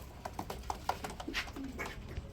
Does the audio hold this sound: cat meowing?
no